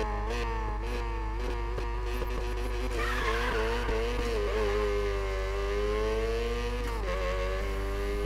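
A Mazda RX-7 in the video game Need for Speed Payback holds a loud, continuous engine drone with shifting revs and long tire squeals while skidding through turns. No one talks over it.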